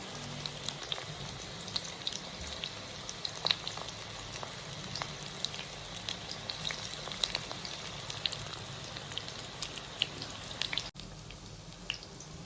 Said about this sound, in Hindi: तो सभी रोल्स को कढ़ाई में जितने भी रोल्स आपके एक बारी में आए डाल के फ्राई कर लीजिएगा।